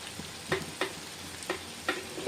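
Chicken kondattam fries in a pan with Kashmiri chili and curry leaves, giving a low, steady sizzle broken by several soft scrapes and taps of stirring at an uneven rhythm.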